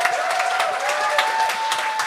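A live podcast audience applauds host Chuck Thompson, a brief burst of many hands clapping close and lively, with a sustained tone running underneath.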